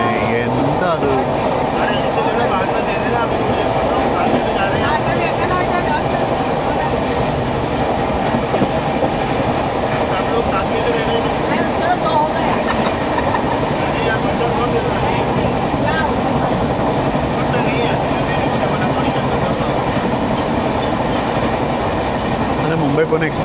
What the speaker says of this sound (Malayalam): അത് മുംബൈ പൂനെ എക്സ്പ്രസ് വേണം പാരലായിട്ട് പോകുന്നത്.